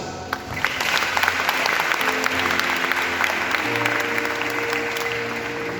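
Church congregation clapping together, a sustained dense patter of many hands filling the room steadily for several seconds, with a low sustained tone, like an organ or keyboard, coming in partway through.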